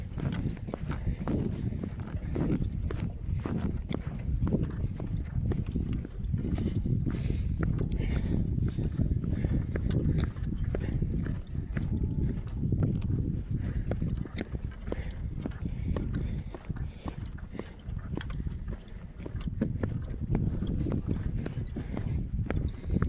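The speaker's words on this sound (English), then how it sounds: "A couple of horses running around to my left." A couple of horses run around nearby on a dusty patrol, their hoofbeats scattered and continuous under a steady broadband rumble of wind and movement.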